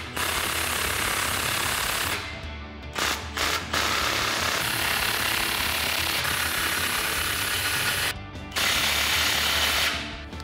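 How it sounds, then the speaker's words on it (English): A hand socket ratchet with a 15 mm socket tightens exhaust clamps on a Ram 1500 during a Proven Ground dual exhaust install, giving a dense, steady mechanical clicking that runs nearly the whole time with a few brief pauses. "we'll go ahead and tighten up our clamps using our 15 millimeter socket"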